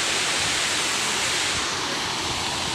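Water rushes over the KRS dam on the Kaveri near Mysore in a loud, steady roar of broadband noise, like a waterfall close by, with no talk over it.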